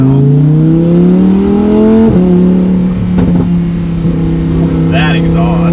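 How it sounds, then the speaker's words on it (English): A 2020 Lamborghini Huracan EVO in Corsa mode accelerating slowly, its loud exhaust holding a steady, rising drone with a brief pitch drop partway through, heard from close up, with faint crackles near the end. "if Lamborghini does one thing right, hands down, the exhaust is insane"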